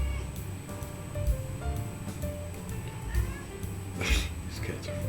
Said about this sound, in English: These cats are fucking crazy.